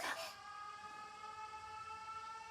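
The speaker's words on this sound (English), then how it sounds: "The sirens. This is bad." Air raid sirens in the video game 13 Sentinels: Aegis Rim, a sustained wailing tone with strong harmonics that starts with a brief burst and then holds steady and moderately loud, with no talk.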